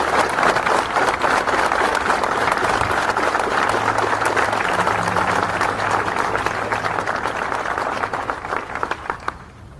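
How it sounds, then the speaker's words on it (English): A crowd of soldiers and guests at a military media briefing at Fort Stewart breaks into sustained applause, dense and even throughout before easing slightly at the end, with no speech over it. "Let's give everybody a big round of applause."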